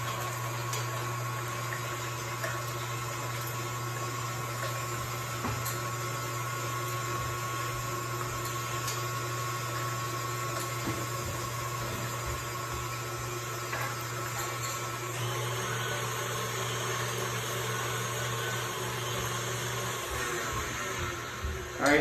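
A blender mixes Swedish pancake batter with sour cream and butter, a steady loud whirring drone throughout that shifts pitch slightly near the end, with no talking.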